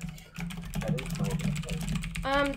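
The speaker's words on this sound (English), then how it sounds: "I know the keyboard is really fucking loud" Loud computer keyboard typing, a rapid string of clacking keystrokes close to the microphone, mixed with a voice talking.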